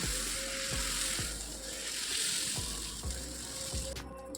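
Ragi dosa batter sizzles steadily on a hot pan as it is spread into a round, a continuous bright hiss broken by soft regular scraping taps.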